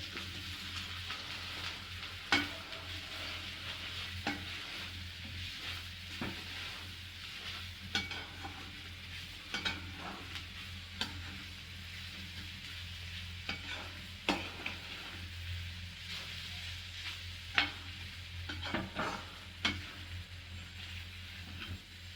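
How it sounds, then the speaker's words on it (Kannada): Salt, turmeric and chili powder stirred in a frying pan: continuous sizzling with repeated sharp scraping strokes of the spoon at an uneven rhythm, close and fairly loud, with no talking. "ಸಾಲ್ಟು, ಟರ್ಮರಿಕ್ಕು, ಚಿಲ್ಲಿ ಪೌಡರು 3 ಈಗ ಮಿಕ್ಸ್ ಮಾಡ್ತಾ ಇದ್ದೀವಿ"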